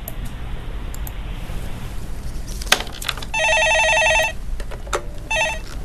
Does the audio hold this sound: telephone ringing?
yes